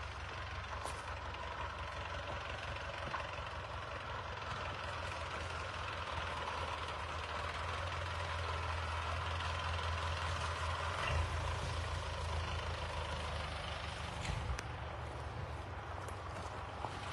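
A tractor engine runs steadily in a forest where illegal logging is happening. Its low, even drone holds for the whole stretch at a moderate distance, with no clear talking over it.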